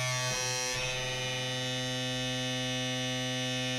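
A tattoo pen machine switched on and running, a steady close electric buzz with a high whine after a brief startup flutter, continuous and alone.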